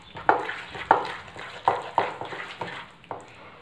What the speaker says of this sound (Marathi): छान फेटून घ्यायचं आहे, म्हणजे पोहे रवा दही एकजीव झालं पाहिजे.